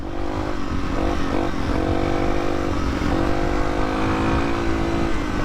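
A rebuilt Yamaha TTR 230 dirt bike is ridden with an enduro crew. Its engine drones loud and close throughout, with small rises in revs and no pauses.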